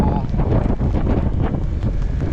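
Strong wind buffets the microphone in heavy, rumbling gusts on a high area by a beach, loud and constant throughout.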